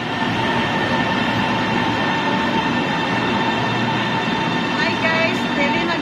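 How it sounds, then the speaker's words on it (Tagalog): Subway train in Shanghai rumbling steadily through a station, a continuous loud roar with faint rail squeals near the end and a murmur of voices underneath. "Sana may dumaan na train para makunan ko."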